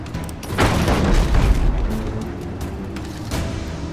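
Grape shot cannon fire in the naval game Abandon Ship, a deep rumbling boom that swells and fades over a couple of seconds, followed by a few fainter crackles, with no voices.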